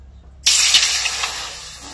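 Water poured into a hot karahi for boiling lentils gives a sudden loud hiss that bursts in after a brief quiet start and holds steady, fading only slightly.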